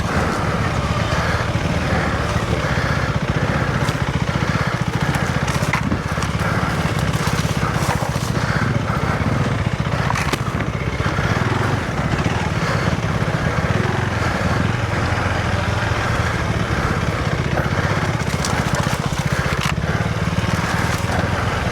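A KTM 390 Adventure R motorcycle cruising in second gear with the clutch feathered, its engine a steady, close, buzzing drone with rough rumble and wind, holding an even level for the whole stretch.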